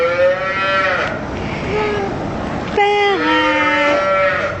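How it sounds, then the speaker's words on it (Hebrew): Cow lowing in a grandfather's barn, two long loud moos close by with a pause between them, alone without talk. "פרה."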